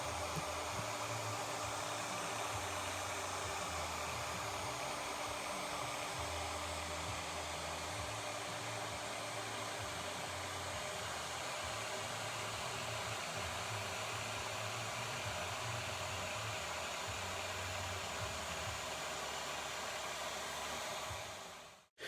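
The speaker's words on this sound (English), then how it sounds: "I'm going to grab the 2-inch pneumatic polisher and put a couple more drops of the Chemical Guys Scratch and Swirl Remover and get to work" A 2-inch pneumatic polisher buffs car paint with Chemical Guys Scratch and Swirl Remover, a continuous loud airy whir with a low fluttering drone, steady throughout and cutting off abruptly at the end.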